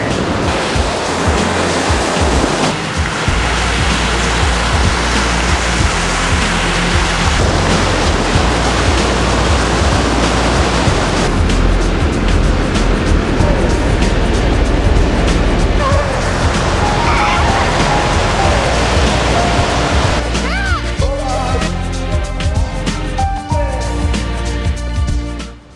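Ocean waves wash continuously onto Hajuan Beach on a bright morning, a loud, close, broadband roar of surf that swells and recedes without pause, with a few faint tonal sounds near the end.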